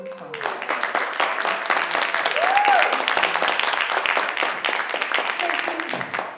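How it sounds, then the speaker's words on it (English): A theater audience gives sustained applause for a woman just honored on stage: dense, steady clapping fills the room at full volume, with a few cheers and whoops rising above it. "Give her another round of applause."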